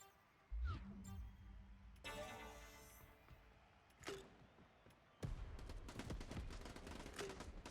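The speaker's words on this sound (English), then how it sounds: "A little bit of pre-fire shots." Pre-fire gunshots in a competitive video game match: a few sharp, loud reports spaced a second or two apart, then a denser stretch of rapid firing near the end.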